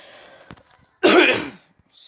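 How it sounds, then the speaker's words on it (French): A single sharp cough bursts out close to the mic about halfway through, following a few faint clicks and breaths, then quiet. "C'est à mon avis parce que je tousse."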